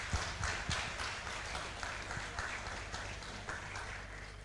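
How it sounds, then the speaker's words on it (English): Audience at a leadership talk giving a round of applause, a faint, distant-sounding patter of clapping sustained for several seconds with low rumble underneath. "round of applause for Saf"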